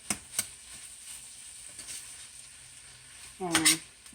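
Shrimp fried rice with soy sauce being stirred in a hot pan, soft sizzling with a few sharp utensil scrapes and knocks, then a brief spoken voice near the end.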